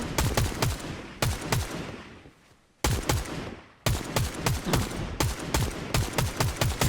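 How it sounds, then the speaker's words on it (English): Bursts of rapid automatic gunfire in a Fortnite match, several sharp close volleys with brief pauses between them. "Let's see if I can get some shots on them."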